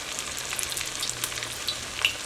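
Flattened wheat flour dough fries in oil over a medium flame, a close, busy crackling sizzle dotted with small pops and bubbling, with no one speaking.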